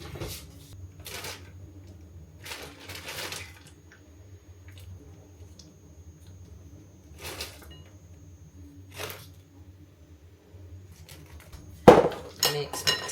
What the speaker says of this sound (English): I am going to mix in my berries into this.